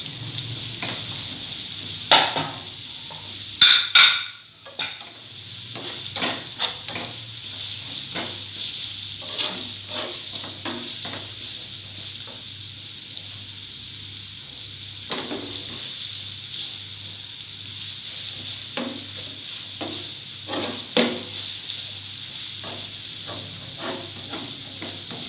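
Salted fish sizzling and frying in a pan for stir-fried chayote, with a steady hiss broken by repeated scraping stirs and clatters, loudest briefly near the start.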